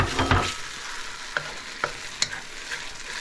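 Ketchup and sriracha sauce cooking in a pan while being stirred for buffalo chicken wings, a steady soft sizzle with a few sharp scraping clicks of a utensil against the pan, close and alone without talk.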